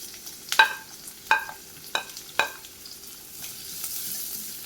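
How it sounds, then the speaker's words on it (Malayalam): Chopped onion and garlic being sautéed in a pan, several distinct spoon scrapes against the metal over a soft, steady sizzle. "സവാള ഒന്ന് ഇളക്കി ഒന്ന് വഴറ്റിയെടുക്കാം"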